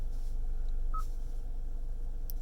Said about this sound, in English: So there's your beeps, your ringtone